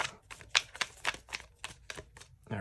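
Tarot cards being shuffled make a quick series of crisp, dry snaps and taps in an irregular rhythm, close up, with a soft thump at the end.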